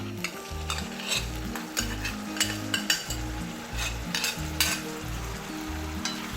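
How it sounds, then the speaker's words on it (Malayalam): Boiled Chinese potato (koorka) is stirred through browned onions sizzling in oil, the spatula scraping the pan in a steady rhythm over constant close frying hiss, with no voices. "ഇനി ഇതിലേക്ക് വേവിച്ച് വെച്ചിരിക്കുന്ന കൂർക്ക ചേർക്കാം"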